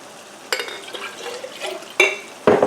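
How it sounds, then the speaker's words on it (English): Liquid splashes and sloshes as it is poured into a glass jar, then a few sharp knocks and rattles of glass as the jar is shaken. "pour this one into the other jar and give that a shake"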